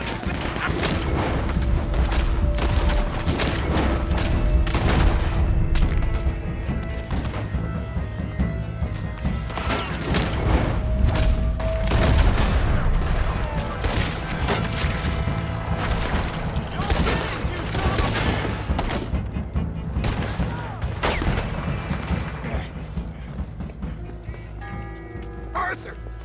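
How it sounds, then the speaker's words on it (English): Gatling gun firing in the Red Dead Redemption 2 game during a bank shootout, with rapid sustained bursts mixed with scattered gunshots and booms, loud throughout, while voices shout over the din. "They got a Gatling gun!"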